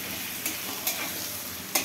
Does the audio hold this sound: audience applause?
no